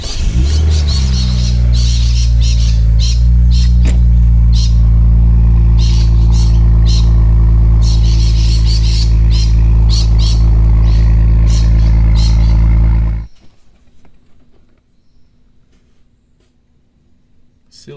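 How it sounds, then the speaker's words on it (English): A turbocharged BMW E46 with an M54 engine fires up from cold in the morning, running loud and close at a steady, droning idle with ticking clatter, then cutting off abruptly into near silence. "Cold start in the morning."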